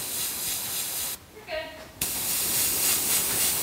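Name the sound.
airbrush spraying Contrast paint onto a model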